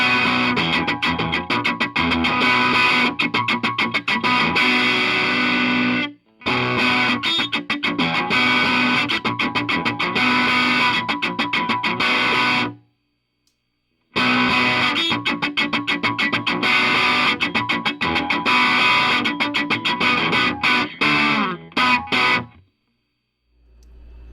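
Heavily distorted electric guitar through a custom 5F1 5-watt tweed tube amplifier plays chugging, percussive riffs in loud bursts, with two short pauses between passages.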